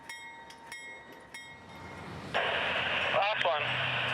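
A CSX train on the Bone Valley line backing a GR1 car into a siding, with rhythmic clunks and radio chatter first, then loud wheel squeal and grinding rail noise rising abruptly partway through.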